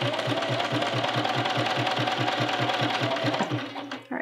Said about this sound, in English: Sew a few stitches in back tack and sew up to the next pin.